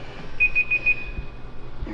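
A workout interval timer sounds four quick, evenly spaced high beeps followed by a fading tone, clear and close against a quiet room with no talking.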